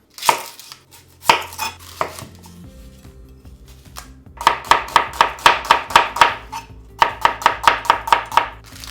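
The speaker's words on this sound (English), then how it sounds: "Next, slice 1 small onion thinly." A knife slices an onion thinly, chopping rapidly on a cutting board in quick bursts of sharp, even taps, with short pauses between runs.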